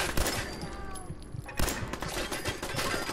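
Automated turret in Fallout 4 at the Corvega Assembly Plant opens fire in dense, rapid bursts of gunfire, loud and close, with a brief lull midway before the shooting resumes and continues.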